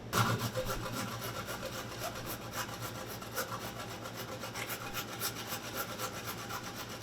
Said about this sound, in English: Now, I'm just going to slice our ginger